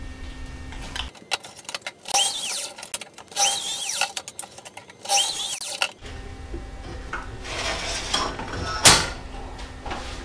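A PVC pipe being cut with a hand pipe cutter for a DIY hydroponic garden tower, with repeated close, squeaky ratcheting and scraping bursts in several rounds, then a steadier grinding passage and one sharp snap near the end.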